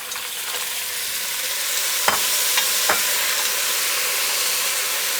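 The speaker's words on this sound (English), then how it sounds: "Next I'm going to stir in the mussels" Mussels are stirred into a hot pan of sizzling garlic shallot purée, a loud steady hiss of frying with a few sharp scraping clicks and knocks from the stirring, without talk.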